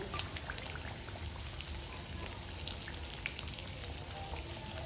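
Fish frying in hot oil in an outdoor kitchen at a Nairobi fish market gives a continuous, dense crackle and sizzle, like steady rain, heard close and moderately loud throughout.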